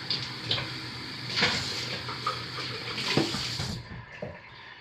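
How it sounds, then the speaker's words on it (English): Running tap water rinsing out a lye container: a continuous close splashing wash with intermittent knocks and gurgles as the container is handled, fairly loud and without speech, cutting off near the end. "rinse out the lye container and turn it upside down to drain to prevent any accidents"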